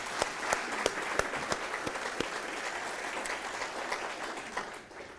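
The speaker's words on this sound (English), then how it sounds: "Let's give them a big round of applause." Sustained applause from an audience at a town's State of the Town event, dense steady clapping with a few sharper claps early on, fading slightly toward the end.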